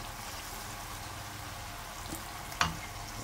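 Beef sizzling in a pan just after a splash of natural apple cider goes in, a steady hissing fry with a brief clatter near the end.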